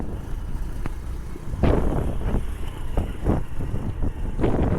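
A car on the road toward a village near the Mumbai–Goa highway works, its engine rumbling steadily up close while bumps and knocks from the rough surface come through at irregular intervals. There is no speech.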